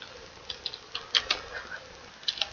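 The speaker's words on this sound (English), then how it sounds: "I'm sorry if you can hear my typing, I know it's really loud. I have a loud keyboard." A loud computer keyboard clacks in short, irregular bursts of keystrokes during an online Town of Salem game, close and fairly sharp over a quiet background.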